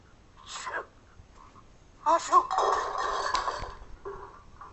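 A voice imitates a sneeze: a short breathy intake followed by a burst and a drawn-out nasal exhale, close to the listener.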